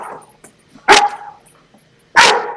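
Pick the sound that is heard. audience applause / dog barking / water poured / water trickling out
dog barking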